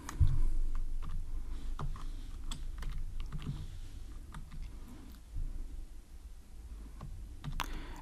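Computer keyboard typing in irregular bursts of clicks and taps, close and moderately quiet, with no voice over it.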